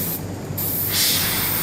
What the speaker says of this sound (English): it looks like you're spraying very, very thinly and just going in the recessed areas